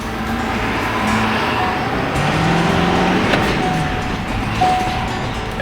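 A truck in four-low gear pulling a loaded Load Trail triple-axle dump trailer, its engine droning steadily and loudly at close range with slow rises in pitch as it strains, no talk over it.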